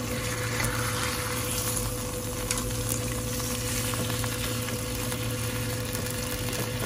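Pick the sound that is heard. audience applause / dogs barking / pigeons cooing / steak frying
steak frying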